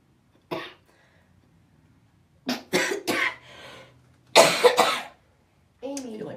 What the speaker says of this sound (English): I feel like my cough medicine's stalling out.